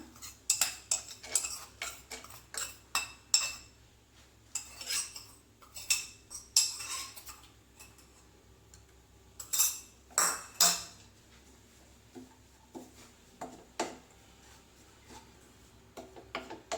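Wheat flour is roasted on low heat in a pan for laddu, with a spoon giving irregular bursts of scraping and metallic clinks against the pan amid quiet pauses.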